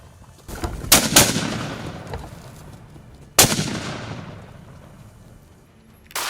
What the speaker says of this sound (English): In a split second, precise shots rang out